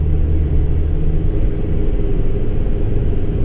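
Deep, steady V10 engine rumble from inside a moving 2017 Ford F-650 truck, with constant road roar and no voices.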